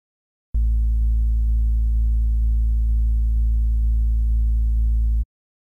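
A steady, sustained synth bass tone from Logic's EXS24 sampler looping seamlessly for about five seconds, deep and even, with faint regular pulses marking each repeat.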